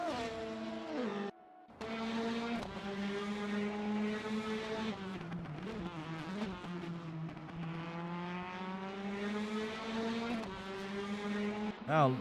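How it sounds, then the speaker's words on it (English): Prototype race cars at Daytona scream past on the track, engines holding a sustained high whine that dips and rises as the cars pass, with a brief gap early on and a louder surge at the end. "as Shiny gets on the inside. Puts a lot of pressure on Artie's car, but does manage to get ahead of the 11"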